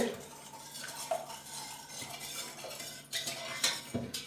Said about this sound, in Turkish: bu suyu bunu bir karıştıralım